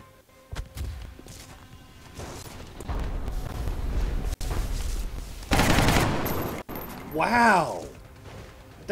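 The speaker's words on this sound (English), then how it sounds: "That's a Gauss rifle that did nothing." A Gauss rifle firing in a sci-fi war video game, sustained heavy bursts and booming blasts that swell loud, broken by sharp cracks, with a swooping electronic whine near the end.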